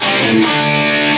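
A distorted electric guitar chugs through a short riff, palm-muted notes giving way to sustained ringing chords, loud and close with no voices.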